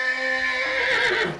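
Horses whinny loudly and close by at a stable, one long neigh rising and then trailing off, with no talking over it.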